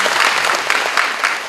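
A large crowd at a university admissions event claps continuously, dense and close, a brief uninterrupted burst of applause.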